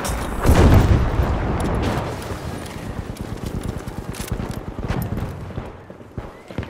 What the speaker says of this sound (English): Yeah, that is the tank.